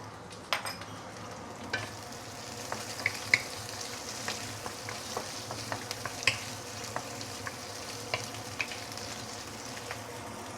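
Prawns frying in a hot wok with browning garlic for Hokkien char beehoon, a steady moderate sizzle punctuated by scattered crackles and pops throughout.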